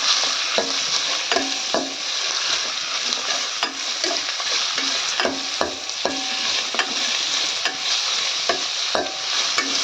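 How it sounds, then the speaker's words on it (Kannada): Loud continuous sizzle of curry leaves frying, punctuated by frequent rhythmic scrapes and knocks of a spatula against the pan. "ಇದನ್ನು ಚೆನ್ನಾಗಿ ಫ್ರೈ ಮಾಡ್ಕೊಳ್ಳೋ."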